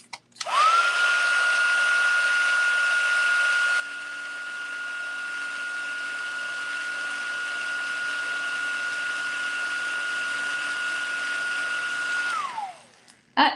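A heat tool for heat-setting stamped ink blows a steady, loud whirring roar that starts abruptly, drops slightly in level partway, then holds constant before shutting off and winding down.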